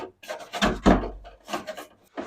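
Dryer vent brush extension rods being screwed together by hand: a few close scraping, rubbing twists with brief clicks, alone with no talk.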